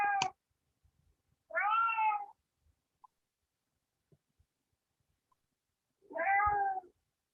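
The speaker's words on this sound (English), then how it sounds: "Got a loud cat." A cat meows three times, loud and close, with long pauses between calls and a few faint clicks in the quiet gaps.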